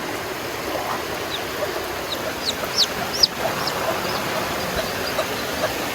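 A hen clucks softly in short scattered bursts over a steady rushing background, with no talk.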